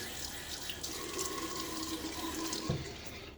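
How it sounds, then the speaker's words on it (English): Running tap water flows steadily into a sink, with a brief splash of water on a face near the end, close by and fairly quiet. "Splash my face with some water."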